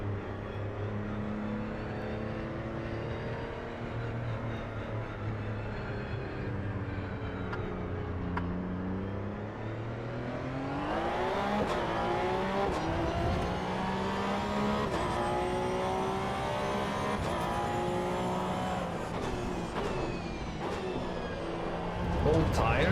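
A race car in the Assetto Corsa EVO racing game drones at steady engine pitch, then revs up with rising, harmonic-rich acceleration and shifts, loud and continuous, with occasional tire noise and a person talking over it.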